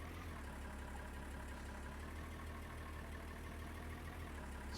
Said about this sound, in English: put our little tractor away.